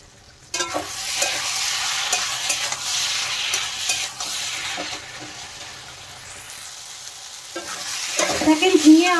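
Ridge gourd and potatoes frying with spices while a spoon stirs them, a continuous sizzle broken by repeated scraping strokes that fades slightly and then grows louder near the end.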